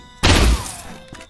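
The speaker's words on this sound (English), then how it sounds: "I like to aim for the explosion barrel right there." An explosion barrel blowing up in the Rec Room video game, a single loud, sudden burst with a crashing, shattering impact that decays quickly into a short rumbling tail.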